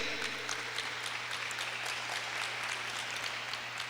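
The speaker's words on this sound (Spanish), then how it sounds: "Gracias, mis hermanos, por los aplausitos" A church congregation claps steadily and loudly through the whole stretch, a dense, even wash of applause with no talking over it.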